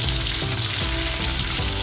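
A thick steak fries on a cooktop, its steady loud sizzle filling the short stretch, with faint low bumps from the pan underneath and no voices.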